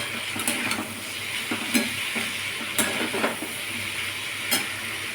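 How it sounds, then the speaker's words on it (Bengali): Potatoes and edible flowers frying in a pan with salt and turmeric, stirred steadily: a continuous oily sizzle with repeated scraping strokes of the spatula, moderately close and without speech. "ভালো করে নেড়ে চেড়ে নেব।"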